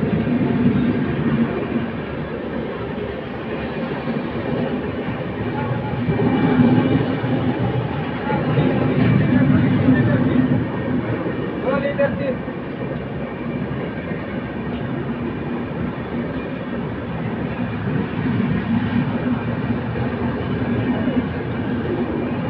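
Howrah division WAP-7 electric locomotive 37185 hauling a passenger train, a steady loud rumble of wheels and rail with a continuous electric drone that swells midway and holds for over twenty seconds, nothing else standing out.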